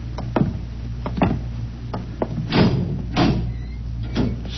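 A door handled in an old radio drama: a series of knocks, clunks and creaking thuds, several sharp hits spread across the stretch, over a low steady hum.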